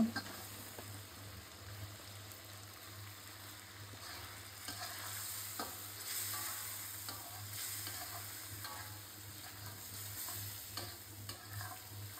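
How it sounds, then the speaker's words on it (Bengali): Stinging catfish sizzling in spice masala with potato and tomato in a pan, a continuous close frying hiss with occasional stirring scrapes and a low steady hum beneath. "এখন শিং মাছগুলি দিয়ে দিব হালকা কষানোর জন্য"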